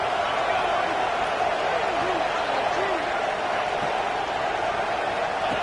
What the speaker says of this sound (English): they'll have to conquer this crowd noise